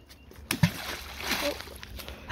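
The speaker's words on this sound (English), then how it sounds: "Oh, it's gonna splash the camera." A large splash as something is thrown into the water at a camping spot, a sharp burst near half a second followed by sloshing, with outdoor voices in the background.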